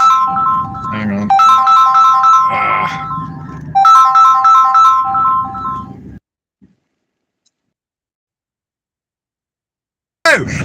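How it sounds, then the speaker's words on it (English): An incoming-call phone ringtone plays loud and close, a bright repeating melodic chime in two long bursts, then silence before it briefly starts again, with nobody talking over it. "Oh, I'm getting a phone call."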